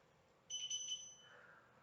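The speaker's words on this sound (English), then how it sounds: "When you hear the timer, start to press back up." A workout interval timer during a cardio-yoga session gives a brief electronic alarm, a short burst of high beeping tones lasting about half a second, fairly faint, with no talk.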